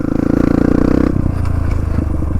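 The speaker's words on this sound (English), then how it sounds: "Pull that clutch in, use your left foot, click up." A dirt bike's engine revs loudly and steadily, then drops in pitch as the clutch is pulled and the rider clicks up a gear, leaving a lower, rougher idle close by.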